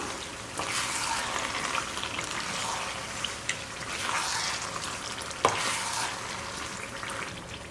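Mango pickle frying in oil in a pan on the stove gives a steady, moderate sizzle with faint stirring scrapes and one sharp clink near the end, no voices.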